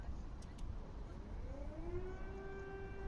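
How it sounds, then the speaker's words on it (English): An air raid siren wails, rising slowly in pitch over steady background noise, sounding distant across a Ukrainian city during the Russian invasion. "we're hearing air raid sirens now."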